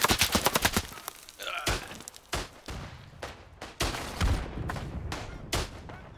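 Gunfire in the World War I shooter Isonzo, opening with a rapid volley of close shots, then scattered heavy single cracks and thuds at irregular intervals, loud against a low rumbling battlefield.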